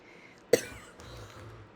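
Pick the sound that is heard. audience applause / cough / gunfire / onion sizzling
cough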